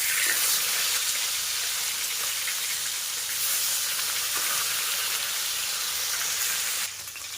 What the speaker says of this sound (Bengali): মাছটা কড়াইতে দিয়ে দিলাম। এক পিঠ হয়ে গেলে উল্টে দেবো আরেক পিঠ ভাজা করার জন্য।